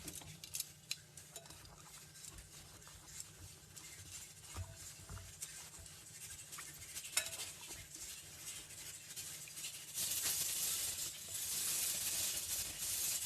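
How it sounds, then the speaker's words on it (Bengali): Chili and turmeric powder being worked into food by hand, a soft, faint patter and stirring with light scraping, then a steadier hiss toward the end. "এখন আমি এগুলো খুব ভালোভাবে মাখিয়ে নেব।"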